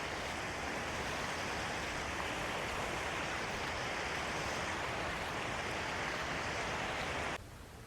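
A clear forest stream runs near a small check dam, making a steady, loud, broadband rush of flowing water that continues unbroken until it drops off abruptly just before the end.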